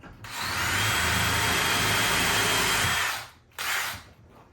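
A power drill whines loudly and steadily for about three seconds, boring into a wardrobe's wooden stile against a stop, then stops briefly before a short second burst.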